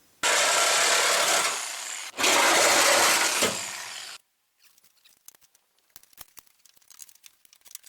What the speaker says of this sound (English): I don't like Sawzalls, but sometimes you just gotta do what you gotta do.